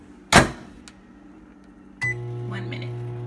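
A microwave oven is switched on after a single knock near the start, then runs with a steady low mechanical hum and faint whine through the rest of the moment.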